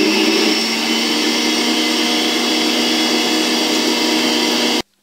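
A loud electric mixer whirs steadily for nearly five seconds, beating egg whites and also egg yolks whisked with sugar, then cuts off abruptly.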